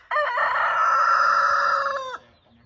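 A farm rooster crows once, loud and close, in a long drawn-out cock-a-doodle-doo lasting about two seconds, part of a crowing match between roosters.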